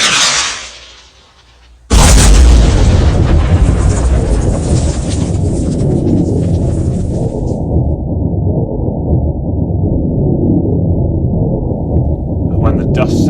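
A Deathstrike missile launch explosion effect from a Warhammer 40k tabletop battle report: a sharp swelling blast followed by a long, loud rumbling roar that sustains and slowly thins out.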